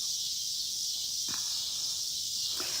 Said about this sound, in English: Can you guys hear the cicadas?